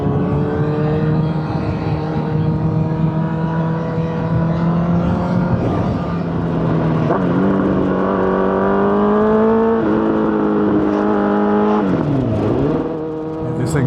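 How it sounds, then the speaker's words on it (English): A motorcycle engine drones steadily on a back-road ride, a loud continuous hum with its pitch rising and dipping as the throttle changes, plus wind rush. "This thing's singing though, and it just makes me want to put a new engine in."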